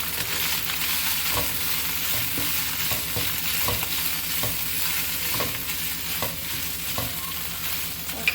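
A cup of chicken fries over full flame with garlic for egg fried rice, giving a steady loud sizzle broken by regular scraping strokes about once a second, with no talking.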